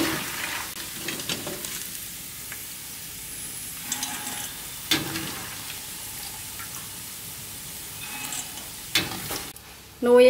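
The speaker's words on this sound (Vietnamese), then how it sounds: "Rồi thì bây giờ là mình sẽ chiên cho đến hết cái phần nuôi thôi các bạn." Macaroni noodles frying in hot oil give a steady, close sizzle with intermittent scraping and stirring knocks of a utensil, continuing alone for several seconds before a louder clatter at the end.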